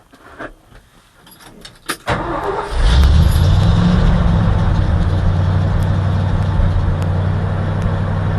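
A Ford F600 truck engine cranks and catches after about two seconds, then settles into a steady, loud, low idle that runs without a break under a shelter on a farm.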